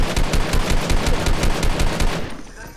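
Rapid automatic gunfire in a video game, a loud evenly spaced stream of shots that stops just before the end, leaving a fading tail.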